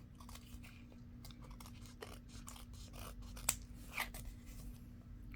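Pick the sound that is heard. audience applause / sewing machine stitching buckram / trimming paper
trimming paper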